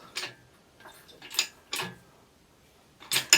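A jack lifts a 1964 Chevy C10 with sharp, close mechanical ratcheting clicks in spaced bursts against near silence, no voices.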